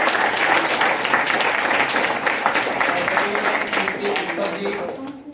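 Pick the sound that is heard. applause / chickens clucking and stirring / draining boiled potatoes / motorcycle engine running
applause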